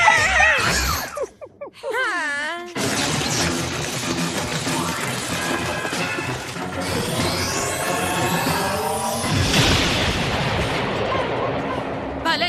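Cartoon explosion from an animated episode: after a brief squeaky voice, a loud blast bursts in and rumbles on as a sustained roaring, crackling wash, with voices mixed in near the end.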